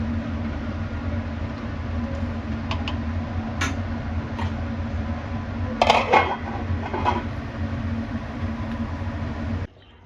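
A metal lid is set on a pot of pointed gourd (parwal) curry over a steady low kitchen hum. A short burst of clattering metal comes near the middle, and then everything cuts off abruptly.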